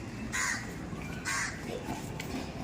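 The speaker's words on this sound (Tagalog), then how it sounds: "Uwak." A crow caws twice in quick succession, loud harsh calls about a second apart, over a busy ambient background.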